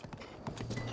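Horse hooves clip-clop in The Legend of Zelda: Breath of the Wild as a few quick, faint hoofbeats against a quiet background, followed by a low sustained hum near the end.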